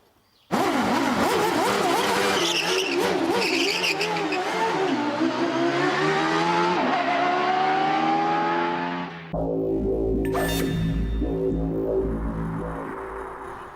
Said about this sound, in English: do I drive the Grand Prix car today, or do I leave it till tomorrow?